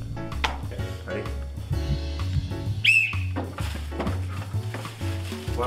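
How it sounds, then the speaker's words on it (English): A single short, shrill whistle blast sounds once midway, over clattering and stirring noises and scattered voices. "On the whistle."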